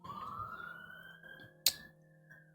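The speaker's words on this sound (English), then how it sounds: "That's a siren outside." A siren sounds outside, a steady rising wail heard faintly at a distance with a brief sharp clatter partway through, no speech.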